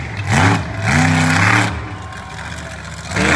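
A monster truck engine at a Monsters v. Megas truck event in West Lebanon, revving in loud, rising and falling bursts, with several surges of throttle in a short run.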